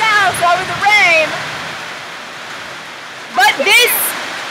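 Heavy rain in Panama pours down as a steady, dense hiss, with people talking over it in two short bursts.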